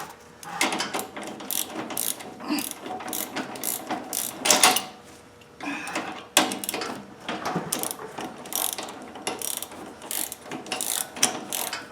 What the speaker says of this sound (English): a 17 millimeter wrench right here and a 17 millimeter socket at the bottom breaks that loose